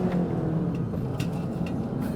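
Volkswagen Golf Mk8 with a DSG gearbox and a suspected faulty clutch, its engine blipped for a rev-matched downshift into first gear: a close, steady mid-pitched engine drone that rises slightly, heard alone.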